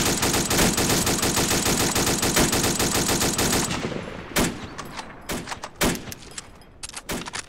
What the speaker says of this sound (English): Put fire on him! I'm doing it! Firing as fast as I can!